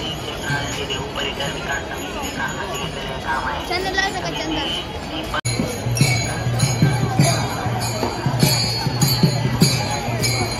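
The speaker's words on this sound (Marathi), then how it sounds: "इथं टाळ ढोल यांच्या गजरात इथं कीर्तन चालू आहे" At a riverside pilgrimage kirtan, taal cymbals and dhol drums sound amid crowd chatter: bright metallic clinks and rhythmic beats, faint at first, then louder and more regular after a sharp break midway.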